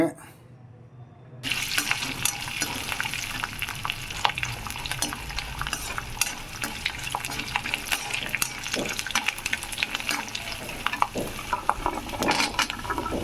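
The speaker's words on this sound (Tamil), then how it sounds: "காஞ்ச மிளகா போட்டு வதக்குங்க பூண்டு சேர்த்துக்கோங்க" Dried red chilies and garlic sauté in an oil-filled pan, a steady broadband sizzle and frying hiss with scattered stirring scrapes and clicks, starting abruptly after a short quiet moment and continuing loud and close throughout.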